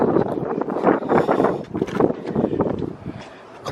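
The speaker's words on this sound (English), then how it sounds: "the wind's kind of gnarly, to be honest" Strong gusty wind buffeting a microphone outdoors, a loud continuous rumbling roar that swells and dips in waves before easing near the end.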